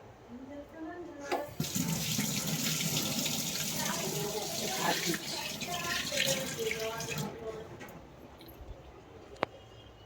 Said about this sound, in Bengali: চুলে হাত দিয়েছি, হাতটা ধুয়ে নিলাম।